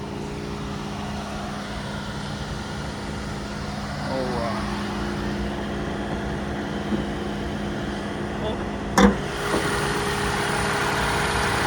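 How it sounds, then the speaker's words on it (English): A 2024 Toyota RAV4 Hybrid engine idles with a steady low hum throughout, close by, joined briefly by a sharp click near the end. "I'll leave the car running"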